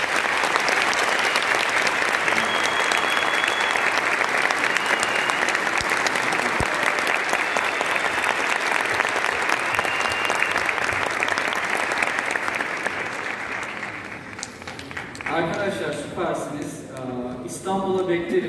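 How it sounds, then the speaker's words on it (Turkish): Sustained, loud applause from a live audience at a talk in Bursa, dense and steady for most of the stretch, then thinning out near the end as scattered voices and cheers come through. "Ama güçlü bir alkış isteyeceğim"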